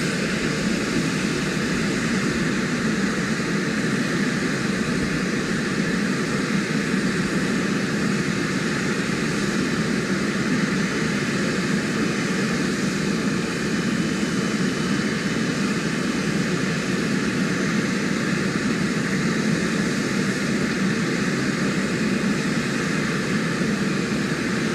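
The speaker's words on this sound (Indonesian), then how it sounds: "pesawat kepresidenan Republik Indonesia yang tiba di" The Indonesian presidential aircraft arrives at Halim Perdana Kusuma airport in Jakarta, its engines giving off a steady, loud, broadband roar that holds evenly for the whole stretch.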